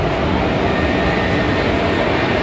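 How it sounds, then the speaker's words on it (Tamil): A festival special passenger train bound for Chennai pulls into a station with a loud, continuous heavy rumble that fills the whole moment, with no talk over it. "இப்போ சென்னை போகக்கூடிய ஸ்பெஷல் ட்ரெயின் வருது."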